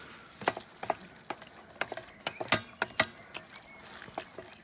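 Chicken stir-fries in a sticky sauce in a wok on a Cadac Safari Chef 2 gas cooker. A quiet sizzle runs underneath, and irregular sharp scrapes and clacks from the stirring spatula sound close by.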